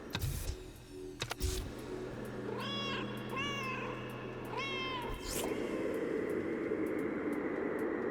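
Two cartoon cats meow in the video game Schrodinger's Cat Burglar, three short rising meows in a row over a steady low electronic hum and ambient game music, with a sharp whoosh near the end.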